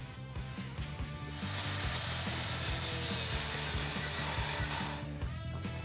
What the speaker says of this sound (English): You ready for the cutoff wheel